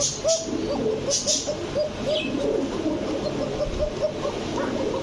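Kokka pigeons, a pure-bred pair, coo in repeated low rolling calls close by, over steady background noise and faint chatter.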